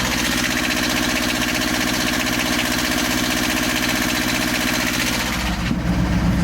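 A boat engine idles inside a foam-insulated engine box, a steady, muffled, close mechanical drone with a regular low knock throughout; near the end the tone shifts briefly and the engine keeps running.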